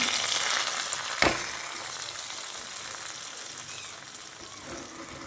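Dried chillies and curry leaves crackle in hot oil as a tempering for chicken mappas. A close, steady sizzle is broken by one sharp clink near the start.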